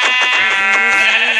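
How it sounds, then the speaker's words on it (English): A Minecraft sheep bleats in a single loud, wavering baa lasting over a second, close and clear with no talk. "I need to definitely get that sheep."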